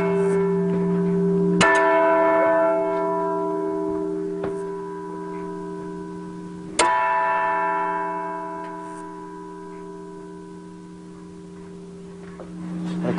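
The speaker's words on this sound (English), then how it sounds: "That's a McShane bell ringing across town?" A McShane church bell rings across town at 6 o'clock: two loud, clear strikes a few seconds apart, each leaving a long humming ring that slowly fades, with no talking.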